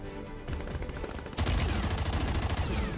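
Sustained automatic gunfire in Call of Duty Warzone on Rebirth Island, loud and close: sparser shots at first, then a dense, continuous burst of rapid fire.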